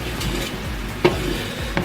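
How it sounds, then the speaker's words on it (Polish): Onions and peppers cooking in a pot for homemade sweet-and-sour sauce are stirred with a spoon, a soft scraping sizzle with a couple of sharper knocks against the pot, close and steady with no talking. "Raz po raz to mieszajmy, żeby to się nie e, przypaliło do dna garnka."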